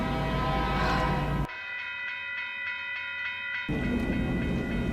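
A train rolls by with a steady mechanical rumble and a ringing, bell-like tone that drops away midway, then the loud rumble returns.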